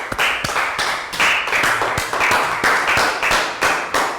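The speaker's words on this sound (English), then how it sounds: "Round of applause for Net." A class of children claps a round of applause in a schoolroom, steady overlapping hand claps pulsing in quick bursts, loud and close throughout with no talk.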